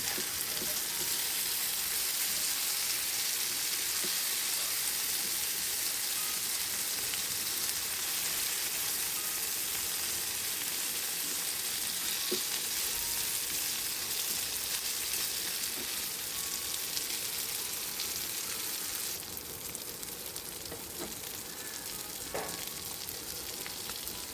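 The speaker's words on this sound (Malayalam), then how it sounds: "അങ്ങനെ മീൻ നന്നായിട്ട് ഫ്രൈ ആയി വന്നിട്ടുണ്ട്" Kerala-style fish fry sizzling in hot oil in a pan, a steady dense crackle that holds evenly close up with no voices, briefly shifting near the end as the pieces are turned.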